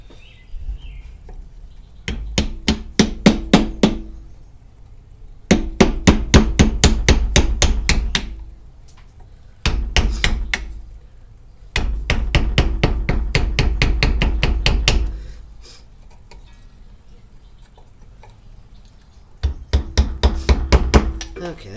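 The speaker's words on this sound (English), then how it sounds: "This is not the right punch or the right hammer I like to use" Repeated metallic hammer blows on a punch while working on an axe, struck in fast bursts of several strikes separated by short pauses, close and loud.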